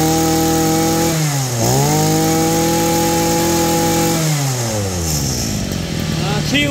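A small 26cc Makita petrol grass trimmer engine runs loud and close, its whine dipping and rising twice as the throttle is eased and opened again.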